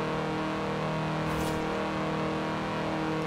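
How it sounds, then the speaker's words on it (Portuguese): A car engine in Forza Horizon 4 strains uphill at around 180, holding a steady droning whine with layered harmonics and a brief whoosh midway, loud and continuous with no talk over it. "Parece que faz confusão este carro a morrer a 180 aqui a subir"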